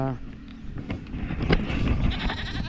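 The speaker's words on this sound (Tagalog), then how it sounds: "Takot yung kambing sa ulan." A goat lets out a short bleat over steady rain noise, followed by a person talking nearby.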